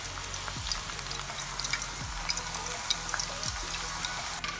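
Banana chips frying in hot oil, a dense steady bubbling sizzle with low clunks every second or so, close and continuous with no talk.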